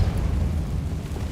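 Repulsor spell cast in Hogwarts Legacy, a short loud low burst like a rumbling blast filling the moment, no voices.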